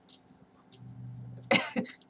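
Someone gives one sharp, close cough near the end after a few faint throat sounds, in a quiet room.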